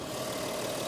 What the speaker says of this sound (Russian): Двигатель TDI.